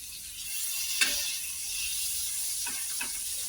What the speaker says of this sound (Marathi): दोन्ही बाजूनी पाव आपण शेकून घेऊया चांगलं